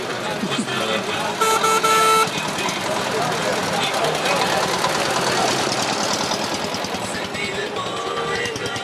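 An old orange tractor engine running at a trotting race event in Komenda, a steady chugging rumble with a brief horn-like toot, heard under continuous talk from a presenter.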